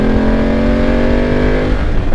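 Dual-motor motorcycle engine revving at high altitude, a loud steady close drone with a strong harmonic hum that wavers slightly, no talk over it.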